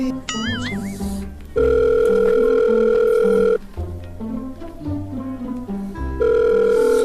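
A telephone tone sounds in long steady bursts with gaps between them, repeating without being picked up, over background noise and music.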